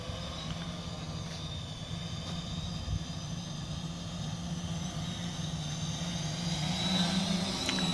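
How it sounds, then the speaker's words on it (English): A DJI F450 quadcopter drone flies past outdoors, a steady buzzing rotor hum with a thin high whine that grows slightly louder and rises in pitch toward the end. "I'll do a nice flyby here and I'll get a nice video of her in the air."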